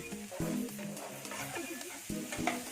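Rice mixed with grated raw mango is stirred and fried in a pan: close, uneven scraping strokes of a spoon over a soft, constant sizzle, with a few sharper knocks against the pan.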